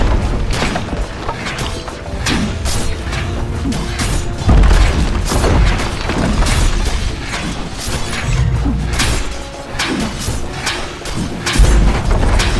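Barracks are destroyed during a Dota 2 match, with a dense run of loud crashes, thuds and mechanical crumbling that repeats in heavy bursts across the whole stretch, mixed with other battle noise.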